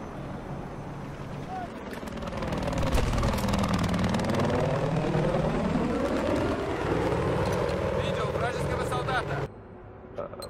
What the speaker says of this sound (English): My helicopter is a little bird.